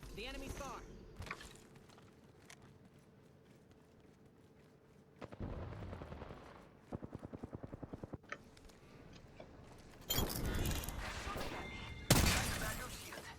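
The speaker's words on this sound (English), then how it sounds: "Opening fire." Gunfire from the hero Catalyst in a shooter video game comes as a rapid train of shots in the middle, followed by louder bursts and blasts near the end, with a quiet voice heard early on.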